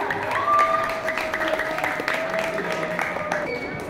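An audience at a school student council candidates' debate claps in steady applause, moderately loud, with a faint tonal hum and some voices mixed in.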